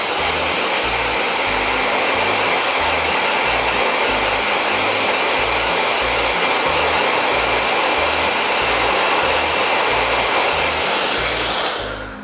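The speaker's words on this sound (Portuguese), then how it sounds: "eu vou acelerar o processo de secagem com o secador" Hair dryer blowing steadily at close range to dry paint on decorated tin cans, a constant loud whirring rush with a low pulsing motor hum, running alone without talk and cutting off at the end.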